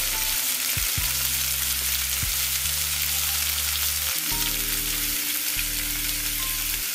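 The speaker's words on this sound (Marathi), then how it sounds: "त्यानंतर यात टाकून घ्यायची आले लसूणची पेस्ट, आणि याला छान फ्राय करून घ्यायचं।" Ginger-garlic paste fries in hot oil with onion and cumin, a steady, close, even sizzle that holds throughout with a few low clunks of a pan or stove beneath it.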